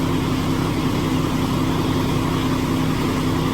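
Truck with an Eaton automated-shift transmission running in a shop during clutch adjustment, a loud, constant low engine drone with steady hum and no change in pace, no talking.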